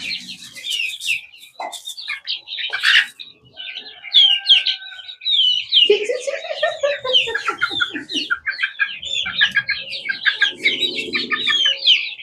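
Several chickens cluck and chirp busily and nearby, overlapping calls in quick irregular bursts, with a louder squawk partway through.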